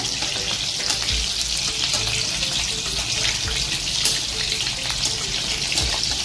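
Chicken lollipops deep-fry in oil with a steady, dense hiss and bubbling that runs unbroken throughout, close and fairly loud, with occasional soft low thumps underneath.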